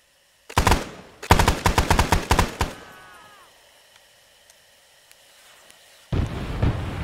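Airstrike of rockets or bombs in the military video game ArmA 3: a sharp close burst, then a rapid string of loud explosive cracks, a quiet stretch with faint pops, and another heavy rumbling blast at the end.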